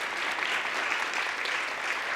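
A meeting audience gives a short, steady round of applause to honour a colleague. The clapping is dense and even and lasts the whole moment, with no talking over it.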